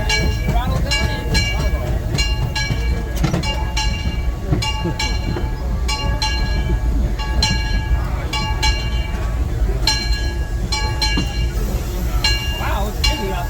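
Disneyland Railroad steam train running as heard from the tender, with steady rolling rumble, rhythmic rail clicks and metallic clinks throughout, loud and close, with some voices in the background.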